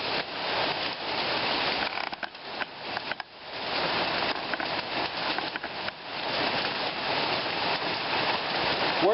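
Steady rain falls outdoors over a work project, making a continuous broadband hiss of drops on surfaces. It is fairly soft, dips briefly now and then, and no one is talking.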